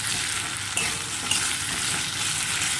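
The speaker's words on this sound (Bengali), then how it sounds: "আদা রসুনটা দিয়ে বেশ ভালোভাবে কষিয়ে নিয়েছি" Ginger-garlic paste frying with onion, potato and slit green chilli in a pan over low flame, a continuous close sizzle with a couple of spatula knocks, no voices.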